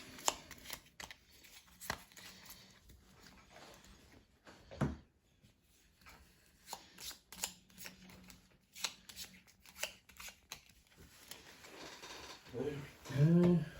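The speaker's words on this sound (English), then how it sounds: "I always make sure I've given them a good little shuffle" A deck of cards from the Horror in the Library board game being shuffled by hand at close range, with soft riffles, taps and slides of card stock coming in irregular bursts and a brief pause partway through.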